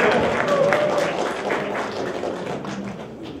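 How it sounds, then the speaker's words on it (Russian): An audience at a Moscow meetup on Amazon PPC applauds a speaker, a steady wash of clapping that fades slightly over a few seconds, with some voices mixed in. "Сергей Пинофеев, аплодисменты!"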